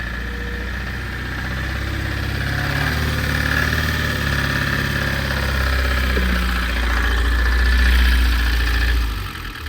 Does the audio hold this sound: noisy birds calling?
no